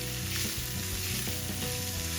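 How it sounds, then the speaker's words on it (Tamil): Onions sautéing in a pan for a curry, a steady close sizzle of frying with soft stirring, continuous and fairly loud throughout, no voices. "இந்த ரம்பையில வெங்காயம் இதெல்லாம் போட்டு நல்லா வதங்க விட போறேன்"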